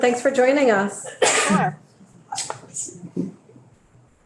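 A sneeze bursts out loudly between bits of close conversation, with people speaking before and after it.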